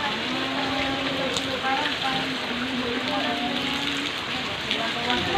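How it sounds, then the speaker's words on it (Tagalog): Steady rain falls and patters on surfaces in an outdoor setting, a constant dense hiss throughout, with a low voice faintly murmuring beneath it. "Habang nagpapatila ng ulan,"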